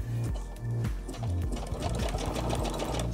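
A sewing machine stitches a zigzag along a PUL nappy cover, its motor running loud and steady close by with a fast mechanical stitching chatter and a few brief pauses in speed.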